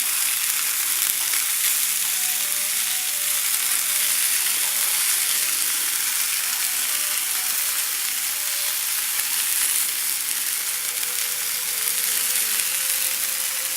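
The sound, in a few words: chicken balls frying and browning in a pan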